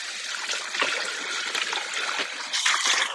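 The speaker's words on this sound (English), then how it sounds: "Give it a quick rinse," A Thermomix TM7 bowl rinsed under running water, a steady close trickle and splash that swells louder near the end, with no voices.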